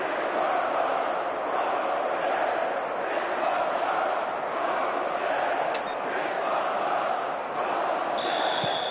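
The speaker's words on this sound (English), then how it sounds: "The crowd expressing frustration in no uncertain terms, clearly unhappy as their team give away that cheap goal." Virtual stadium crowd in the PES 2010 football game on PS3, Real Madrid versus Barcelona, a steady dense roar of massed voices sounding displeased, filling the whole stretch at even loudness with no individual speech.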